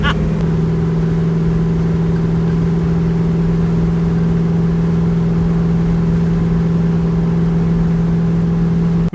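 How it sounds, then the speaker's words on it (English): An LS V8 in a Mazda Miata drones steadily while cruising along the road, a constant loud low hum with road noise heard from inside the car, no talking. "just cruising my LS Miata to the gas station"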